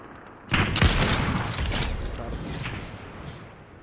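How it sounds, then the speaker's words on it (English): A burst of gunfire in a video game breaks out, a sharp volley of shots that rings out and fades over a few seconds. "I think they're shooting the shark. I hear gunshots."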